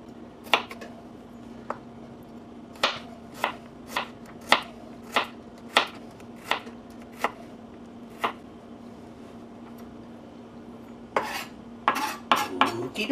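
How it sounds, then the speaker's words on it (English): A small garlic clove is chopped coarsely with a knife on a board: about a dozen crisp, evenly spaced strikes, close and clear, ending in a quick flurry of cuts. "Now I'm also throwing in just a little tiny clove of garlic, which I'm going to just chop coarsely"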